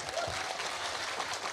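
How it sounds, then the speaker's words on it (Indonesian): An audience at an Islamic sermon breaks into applause, a brief burst of scattered clapping under a murmur of crowd noise, moderately loud and close, lasting only a moment. "Tepuk tangan tuh Kak Igun"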